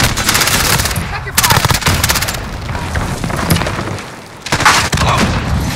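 Call of Duty gunfire and explosions: dense machine-gun bursts and booming blasts rattle almost nonstop, loud and close, briefly easing before another heavy volley.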